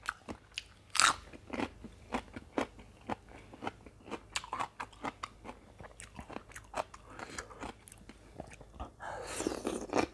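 Fresh winged beans are bitten and chewed close up, giving a quick series of sharp, dry crunches with brief pauses, and a denser burst of crunching near the end.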